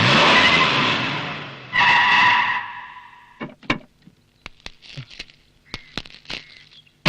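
A car pulls away in a Malayalam comedy film scene, its engine revving loudly for about three seconds, then fading into scattered clicks, thuds and short knocks nearby.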